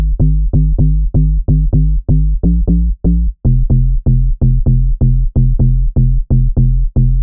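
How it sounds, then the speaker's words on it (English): A classic donk bass synth preset for modern dance music bounces in a steady run of short, punchy plucked notes with a slight pause midway, loud and alone with no talking. "Bass camera is the classic donk bass"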